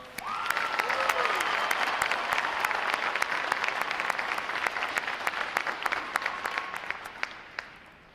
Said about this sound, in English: How about a round of applause for them, folks?